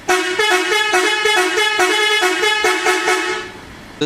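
A truck horn honking in Construction Simulator 2014 during a log delivery: a rapid series of loud, rhythmic, tonal honks over about three seconds, then a fade and one brief final blip.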